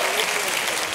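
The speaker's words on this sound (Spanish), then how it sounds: "Fuerte aplauso para los tres que están solos." An audience at a live improv comedy show claps loudly and densely for about a second of continuous, close applause.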